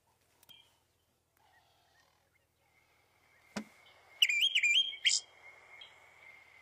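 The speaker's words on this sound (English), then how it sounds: "Olive thrush." An olive thrush sings a short burst of clear, warbling whistled notes after a quiet stretch, with a faint steady hum in the background.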